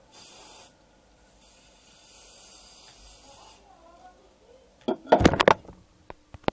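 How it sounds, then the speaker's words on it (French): Hairspray is sprayed onto short hair in a steady hiss lasting a few seconds, preceded by a brief quick spray burst. Louder handling and rustling noises follow close by. "On va prendre un peu de spray. Et la mettre."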